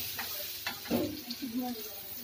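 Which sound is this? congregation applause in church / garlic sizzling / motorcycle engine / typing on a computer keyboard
garlic sizzling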